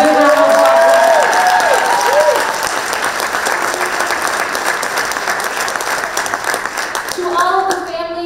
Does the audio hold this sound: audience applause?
yes